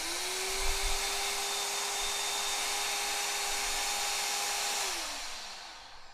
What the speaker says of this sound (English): I'm going to turn on the motor first, which is this button